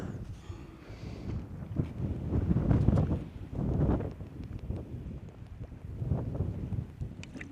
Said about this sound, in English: That breeze is lovely, man.